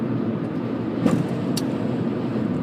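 A car on a coastal road between Netarts and Pacific City, Oregon strikes a pothole, making one brief thump over a steady rumble of tyres and road noise inside the cabin, with no voices.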